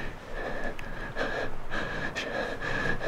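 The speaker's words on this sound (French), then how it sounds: "J'entends sa respiration." Tense breathing of a character in the horror video game Reclus, a steady near series of breaths with a few sharper gasping inhales, heard over a faint background tone.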